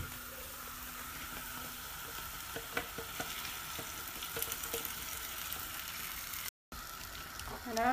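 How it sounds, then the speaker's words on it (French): Peppers and onions cooking down in a pan for a kefta tajine, with tomato being added, give a steady close sizzle with occasional stirring clicks and scrapes, and a brief gap of silence near the end. "lorsque notre poivron et notre oignon ont bien réduit, je viens rajouter ma tomate"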